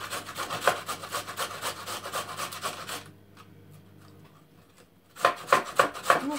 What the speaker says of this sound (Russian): А вы чем трете морковку?